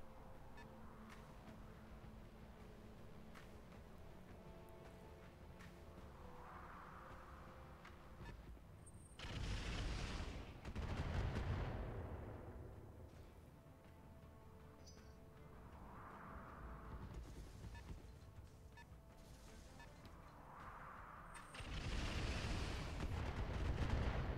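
Heavy, distant booming bursts of LRM missile fire from a building in the video game Battletech, two broad rumbling volleys rising out of a low steady background with no talk.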